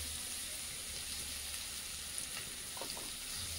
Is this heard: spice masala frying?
yes